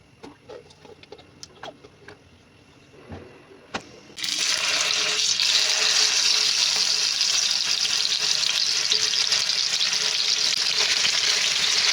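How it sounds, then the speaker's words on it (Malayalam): Chicken frying in a small pan, a loud, steady hiss of hot oil that bursts in suddenly after a few seconds of quiet clinks, then sizzles continuously and close. "ചെറിയ ചട്ടിയിൽ ചിക്കൻ പൊരിച്ചെടുക്കുക"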